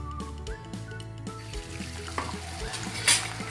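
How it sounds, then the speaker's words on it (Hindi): Palak puris frying in hot oil, giving a steady sizzle with soft stirring and a few clinks, then one brief louder crackle near the end. "तो अब हम ये पूरियाँ डाल देते हैं तेल में"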